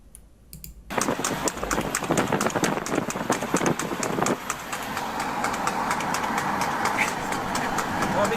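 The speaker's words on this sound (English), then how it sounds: "I love the trotting sound." A police horse trots on pavement, its hooves clip-clopping in a quick, steady rhythm, loud and close, with a brief rustle before the hooves begin.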